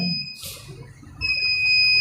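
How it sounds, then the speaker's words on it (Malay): An electronic alarm sounds a steady high-pitched beeping tone that cuts out briefly and then resumes, heard at moderate level over faint room noise. "Apa ini ciut-ciut nih?"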